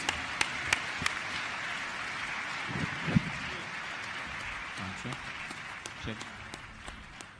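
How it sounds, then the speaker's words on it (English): Steady applause from a summit audience fills the whole stretch, with a few louder individual claps and a voice faintly underneath. "Let's give them another round of applause as they leave the set"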